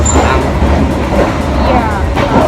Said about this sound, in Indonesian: Kereta jadi udah mulai jalan.